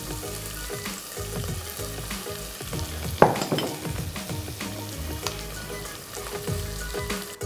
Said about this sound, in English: you really want to fry off that garlic and ginger paste and the onions well.